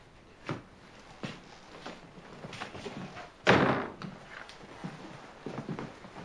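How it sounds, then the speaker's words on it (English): A door is closed in a quiet room: a few soft knocks and thuds lead up to one heavier slam near the middle, followed by small scattered taps against a hushed background. "Close the door."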